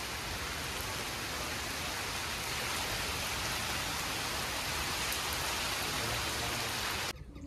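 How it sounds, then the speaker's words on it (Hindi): Heavy rain pours down in a dense, continuous hiss of drops striking surfaces, steady throughout before cutting off abruptly at the end. "बारिश भाई तेज हो रही है"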